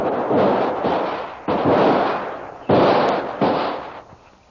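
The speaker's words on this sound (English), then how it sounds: "both the savage and Kolu start shooting at each other." Rifle gunshots exchanged in an audio drama shootout, four heavy booming shots a second or so apart, each followed by a long rolling echo that fades before the next, with no talking.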